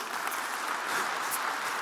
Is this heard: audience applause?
yes